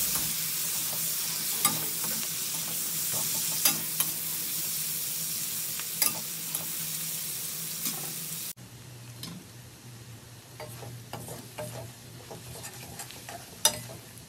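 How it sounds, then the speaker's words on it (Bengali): Chopped onions fry to brown in a pan with a steady, close sizzle, broken by frequent spatula scrapes and stirring clicks that stay fairly even throughout. "পেঁয়াজটাকে লাল করে ভেজে নেব।"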